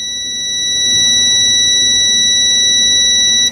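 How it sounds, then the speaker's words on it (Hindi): A multimeter set to continuity beep sounds across a mobile phone coil, holding one loud, unbroken shrill tone for several seconds before cutting off sharply at the end, close and alone. "ये बीप आ रहा था, इसका मतलब ये कॉइल ठीक है"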